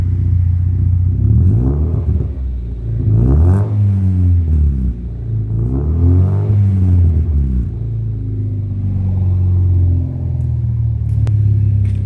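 A Hyundai Excel X3 DOHC engine with a cannon-style exhaust revs up several times in rising and falling sweeps over a loud idling rumble, close by, with no talking.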